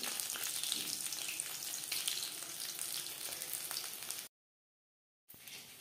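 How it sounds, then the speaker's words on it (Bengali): Batches of fish pakora in batter deep-frying in hot oil, a dense close bubbling sizzle that runs steadily, drops out for a moment, then resumes. "প্রত্যেক ব্যাচের ফিশ পকোড়া একইভাবে ভেজে নেব"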